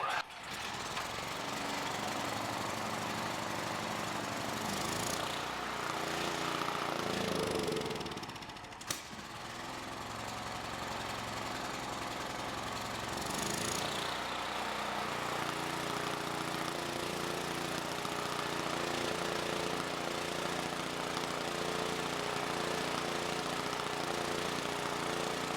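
A Generac portable generator engine runs with a steady, droning rumble after being pull-started, briefly dipping and catching again before settling into a continuous loud hum for the rest of the stretch.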